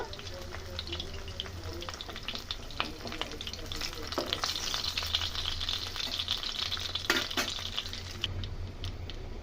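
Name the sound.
pointed gourd (potol) pieces frying in oil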